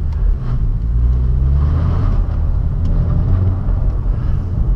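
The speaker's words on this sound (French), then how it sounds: "Donc petit drift gentil sur le sable." A Hyundai Genesis drifting on sand, a loud continuous engine rumble with tires churning through loose sand, close and steady throughout.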